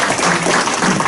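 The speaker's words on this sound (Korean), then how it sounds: "우리 다 같이 박수 좀 부탁드립니다." An audience at a church hall poll-watcher training session applauds, a brief dense burst of clapping from many hands, loud and continuous with a faint trace of voices.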